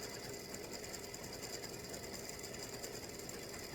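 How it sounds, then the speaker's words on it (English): A computerized embroidery machine runs steadily, satin stitching around the outline of a small freestanding-lace state-shaped earring design, a continuous fast mechanical whir and ticking with no talk, fairly faint and even throughout. "Now it wants to do satin stitching around there"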